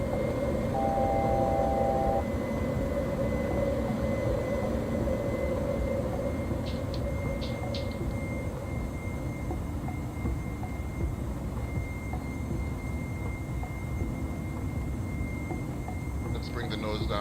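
Airliner jet engines roar steadily while climbing after takeoff in a flight simulator game, a loud continuous drone with a pilot voice talking over parts of it.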